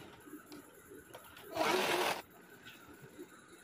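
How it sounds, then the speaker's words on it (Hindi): Sewing machine stitching the back neck of a blouse, a loud steady whirring burst lasting about half a second in the middle of otherwise quiet room noise. "और फिर दूसरे तरफ का भी सिलाई कर लूँगी।"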